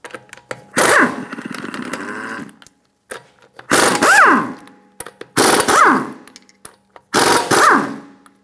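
A power impact tool spins off the lug nuts of a Honda Accord wheel with a 19mm socket in four loud, close bursts, each a rising then falling whir separated by short pauses.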